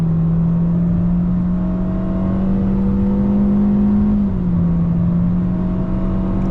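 A 2021 Chevy Spark with a 1.4-litre inline-four under full throttle, engine droning loudly from inside the cabin with a steady rising tone, briefly dipping at a shift before climbing again.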